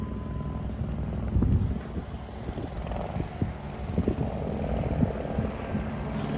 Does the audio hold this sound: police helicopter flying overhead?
yes